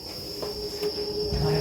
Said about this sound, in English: I heard the owls scream and the crickets cry.